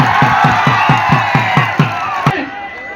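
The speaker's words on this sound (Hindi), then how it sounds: "एक और जोरदार तालियों से स्वागत किया जाए।" A crowd at a pahalwan wrestling match cheers and claps as a loud, rhythmic beat of roughly eight strong pulses runs under the noise, then cuts off abruptly near the end.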